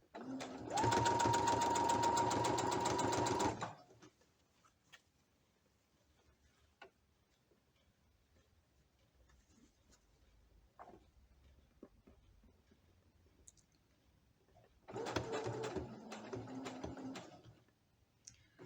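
Sewing machine stitching heavy, multi-layered fabric for a pair of shorts: a loud, close burst of rapid stitching lasting a few seconds, then a long quiet gap with faint ticks, then a second shorter run.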